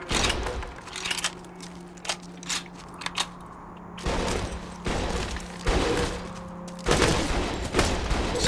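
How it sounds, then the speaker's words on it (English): A machine pistol fires in Borderlands 2 in loud, rapid bursts, several separate volleys broken by short pauses. Mechanical clicks sit between the bursts over a faint tonal game hum. "Just scored a crit with a machine pistol."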